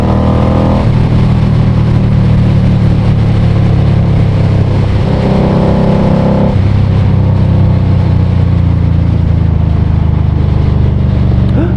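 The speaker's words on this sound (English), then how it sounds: "Look at all the motorcycles!" Motorcycles ride past on a road, their loud engines droning and revving continuously with rising and falling pitch, close and dominant throughout, with no talking.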